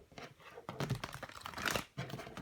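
A deck of tarot cards is shuffled close by in quiet bursts of papery riffling and crinkling, with short pauses between passes.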